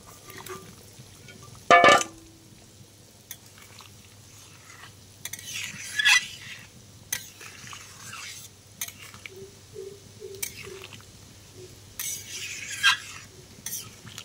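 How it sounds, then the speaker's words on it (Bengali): Fried eggs going into a simmering egg curry gravy in a pan: a sharp metallic clatter of utensil against pan, then quieter stirring scrapes, soft sizzling and occasional clinks over a low background hum. "বাকি ডিমগুলো আমি ঝোলে দিয়ে দিচ্ছি।"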